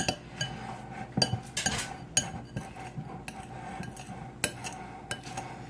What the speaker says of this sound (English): so we want to stir it again